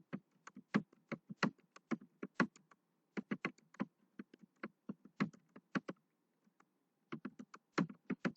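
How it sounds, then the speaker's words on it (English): Typing on a computer keyboard: a quick run of crisp, close key clicks in uneven bursts with short pauses, faint and alone with no talk. "I can just start typing."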